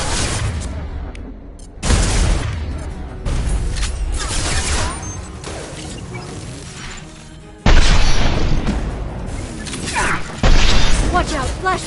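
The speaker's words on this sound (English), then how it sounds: "Watch out, flashbangs." Flashbang blasts go off in a Mass Effect 2 firefight, several sharp booms landing at uneven intervals amid crackling gunfire and mechanical clatter, loud and close, each burst followed by a ringing decay.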